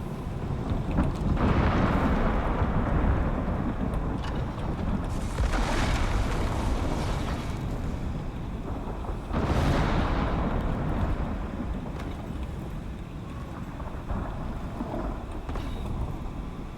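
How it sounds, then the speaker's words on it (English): Thunderstorm in the survival video game Icarus, with deep rolling thunder rumbling in long loud swells over steady wind and rain noise, no talk. "came back to a thunderstorm."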